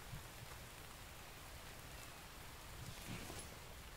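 Steady rain falls in the survival video game Infected, a soft continuous hiss of drops throughout with no talking.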